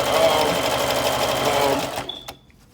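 Sewing machine stitching a side seam in fabric, a steady close mechanical whir for about two seconds before it stops, followed by a brief click and quiet.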